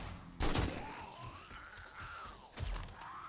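Two sharp gunshot bursts from the video game 7 Days to Die, fairly faint and about two seconds apart, with a thin rising whine between them.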